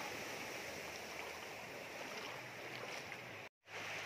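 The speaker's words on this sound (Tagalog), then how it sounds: "Ito nyo naman yung alon guys," Steady broadband wash of sea waves and surf rolling nearby at a beach, continuous with a brief dropout near the end; no talking.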